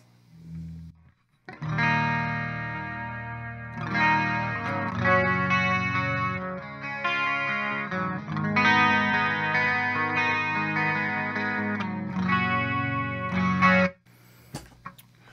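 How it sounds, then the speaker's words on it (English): A clean electric guitar with a shimmering chorus effect plays chords and melody lines for several seconds, then stops and rings off. "that just sounds like a clean guitar tone with chorus on it"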